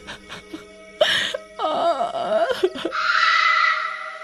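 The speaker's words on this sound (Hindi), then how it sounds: "हमेशा की तरह शाम होने के बाद उस औरत के रोने की आवाजें" A woman's eerie crying and wailing rises in drawn-out, wavering moans and sobs, close and fairly loud, as a ghost-story effect heard after dusk in a haunted park.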